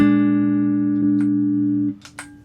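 A sustained electric guitar chord played through an EQ pedal switched on rings steadily with rich harmonics, then cuts off, followed by a couple of brief scratchy string noises.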